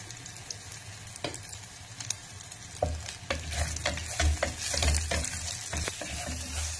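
Curry leaves and asafoetida powder frying in hot oil for tomato rasam, a steady sizzle that swells midway, with stirring scrapes and small crackles close by.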